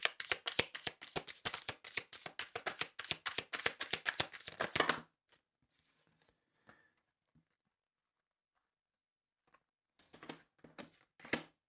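Tarot cards being shuffled close up, with a fast run of crisp riffling flicks for about five seconds, then near silence and a few more brief card snaps at the end.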